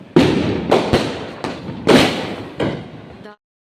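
Diwali firecrackers go off nearby in a series of about five loud, sharp bangs spaced under a second apart, each with a short crackling tail, then the noise stops.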